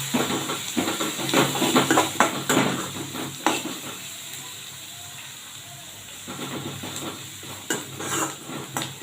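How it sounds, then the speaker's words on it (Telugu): A spoon scrapes and clinks against a pan while turmeric is stirred into sizzling onion masala for egg curry, with a steady frying hiss underneath and quieter stretches between stirring strokes. "పసుపు వేసి బాగా కలుపుతాం"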